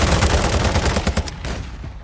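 Rapid automatic gunfire rattles in a video game, a close, loud burst of evenly spaced shots for over a second before tapering into scattered, fading reports.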